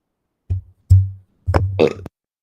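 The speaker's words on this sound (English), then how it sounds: "I try not to burp on cam, but it just happens sometimes" A person burps several times on a live stream: short low guttural belches in separate bursts, close and fairly loud, with no talk between them.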